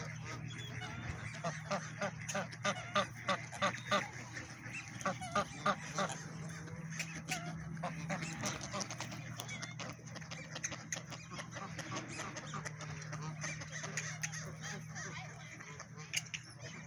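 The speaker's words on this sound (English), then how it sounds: "And there's a duck with a white bill." Ducks, including one with a white bill, quack and honk steadily at moderate distance, many calls overlapping in a continuous outdoor flock chorus with faint background hum.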